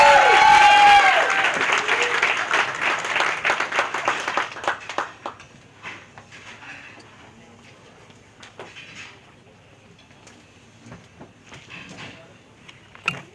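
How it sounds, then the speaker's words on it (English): Loud applause from a crowd fills the opening seconds, then fades out, leaving a quiet room with scattered small noises. "Let's clap it up for her."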